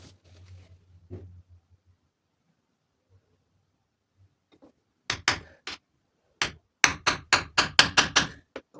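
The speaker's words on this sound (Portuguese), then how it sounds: "E aí eu estou furando a falange e o dorso de couro ao mesmo tempo." Leather glove parts, the finger section and back, punched through together with drill bits as pins, struck by a hammer: sharp, loud blows in quick bursts, about a dozen in all, after some faint handling noises.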